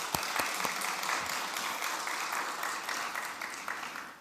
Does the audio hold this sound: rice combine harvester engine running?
no